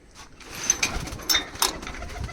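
Oman teddy pigeons settled together, giving soft intermittent calls and rustles close by, with a few sharper chirps over a quiet background.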